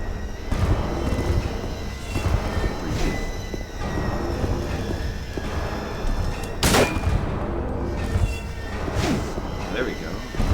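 Rifle gunshots in the horror video game Silent Hill 2, several sharp cracks spaced apart over a dense, noisy game soundscape, one especially loud blast standing out, with someone talking over much of it.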